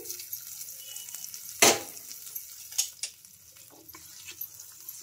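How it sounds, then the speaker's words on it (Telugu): Hot tempering (popu) goes into a chutney with a brief sharp sizzle burst, followed by a few soft clinks and stirring taps against a quiet background. "ఇంకా పోపు కూడా ఈ చట్నీలో అయితే వేసుకుంటున్నాను"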